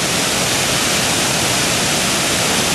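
Steady roar of a waterfall, loud and close, with dense broadband rushing water and no voices.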